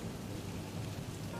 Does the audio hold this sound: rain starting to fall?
yes